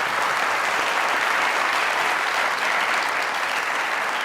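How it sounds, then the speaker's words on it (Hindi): A studio audience at a comedy talk show bursts into sustained, dense applause, a loud, even wash of many hands clapping throughout. "चीमा साहब के लिए यार तालियां।"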